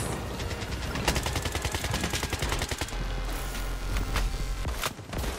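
Rapid bursts of SCAR rifle gunfire in the shooter game Blood Strike, with dense automatic fire rattling almost continuously at close range and only brief pauses between volleys.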